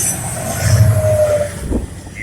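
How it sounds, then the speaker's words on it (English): A train rolls along the tracks with a steady loud rumble, a thin drawn-out wheel squeal rising briefly in the middle and faint clatter toward the end, heard close with no voices. "We'll be hopping the train to head up the tracks"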